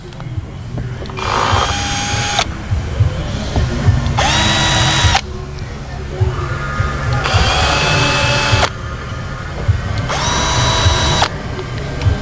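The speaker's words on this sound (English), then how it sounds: "Now we're gonna go ahead and go get these Phillips screws out." A power drill backs Phillips screws out of a 2011 Jeep Wrangler front passenger door panel, four separate high whirring bursts spaced across the span, close and loud, with low shop noise filling the gaps.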